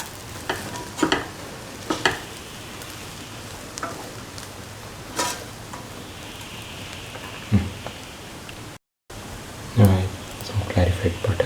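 Lemon chickpea carrot rice is stirred in a hot pan, a steady crackling sizzle with repeated scraping strokes and clanks of a spoon, a brief gap near the end, and a voice briefly audible.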